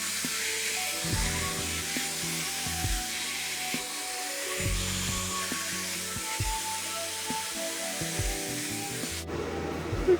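Dyson Airwrap hair styler blowing on its highest heat setting, a steady loud whooshing hum with shifting tonal layers throughout, cutting off abruptly just before the end.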